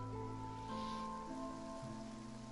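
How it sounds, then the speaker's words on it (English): Rain falling in the video game Genshin Impact, a steady soft hiss of rainfall running continuously beneath sustained musical tones from the game soundtrack. "It rained for longer than I suspect."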